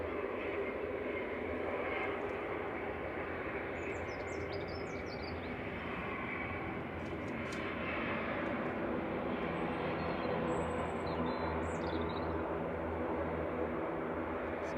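An airplane passes overhead near Manchester Airport, a broad steady engine roar that holds through the whole stretch, with faint bird chirps above it.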